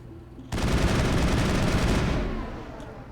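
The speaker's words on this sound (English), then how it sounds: "it's just Shepard just shooting his gun inside the Normandy" Gunfire from Commander Shepard inside the Normandy starship in the Mass Effect video game: a loud, sustained burst of rapid shots lasting about two seconds, then fading out, with no voices.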